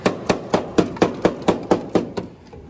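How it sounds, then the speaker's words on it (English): Metal hammer blows strike race car body panels in a steady run of about ten sharp, ringing impacts, close and loud, with the last ones slowing and fading. "Still hammering away."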